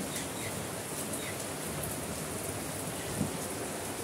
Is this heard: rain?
yes